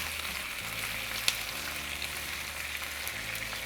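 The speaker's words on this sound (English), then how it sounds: "now we're just going to fry everything together for 5 minutes" Tomatoes fry with other ingredients in a pan for barbacoa enchiladas, giving a steady, fairly soft hiss of sizzling oil with one brief clack of a utensil and no voices.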